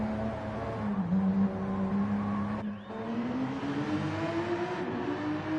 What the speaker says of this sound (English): I can hear the straight line 6 engine coming out of the rear of the car.